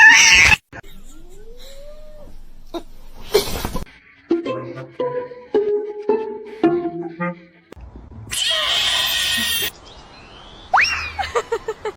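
A cat meows and caterwauls in several separate calls, some drawn out and some short, close and loud, amid other scattered household noises and bursts of noise.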